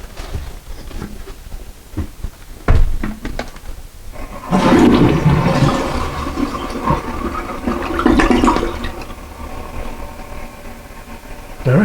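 A newly replaced toilet flushing loudly and nearby, a rushing gurgling swirl of water that then settles into the hiss of the tank refilling, preceded by a few clunks from the handle.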